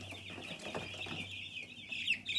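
Baby chicks keep up a continuous high peeping with soft clucks, close by over a low steady hum. The chirping grows louder toward the end.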